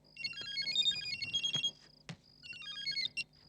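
A phone ringtone plays a bright, repeating electronic melody in two bursts, separated by a brief thud and pause, with no talking.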